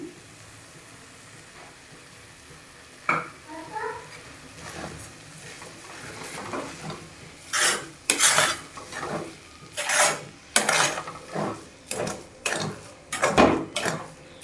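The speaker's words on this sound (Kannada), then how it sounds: "ಸಕ್ಕರೆ ಹಾಕ್ತಾ ಇದ್ದೀನಿ" Sugar going into roasted vermicelli in a pan for a sweet shavige dish, with quiet clinks and then a run of repeated scraping and stirring strokes against the pan, close and growing busier toward the end.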